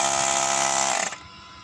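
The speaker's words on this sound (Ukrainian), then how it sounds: "ось спрацював у нас компресор" The small built-in air compressor of a 4-in-1 car jump starter whines and buzzes steadily up close, then cuts off abruptly near the end.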